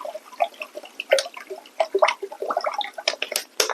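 Water is poured into a bowl holding a cup of salt to make kimchi brine. It comes as a steady run of close, splashy trickles and drips, with no talking.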